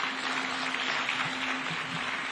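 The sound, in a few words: audience applause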